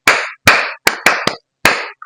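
Six sharp, close claps in an uneven rhythm with gaps between them, loud and dry, with no speech over them.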